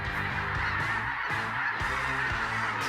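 A large flock of geese honking continuously in a field in Saskatchewan, Canada during hunting season scouting, a dense loud chorus of overlapping calls with no talking.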